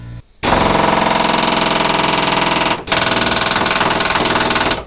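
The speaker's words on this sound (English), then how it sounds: "You know it's good when the angle grinder comes out." Angle grinder cutting on the floor of a Firebird muscle car during a restomod teardown, a loud continuous harsh buzzing rattle that starts abruptly and runs steadily with one brief dip, close by.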